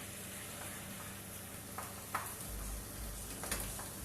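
Beef for smoky beef and black bean tacos frying in a pan, a soft, steady sizzle and hiss throughout with a few faint clicks of a utensil.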